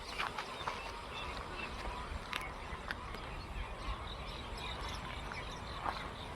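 Birds call over a pond beside an embankment, their short, scattered duck-like cries rising from a constant outdoor wash of noise at moderate distance.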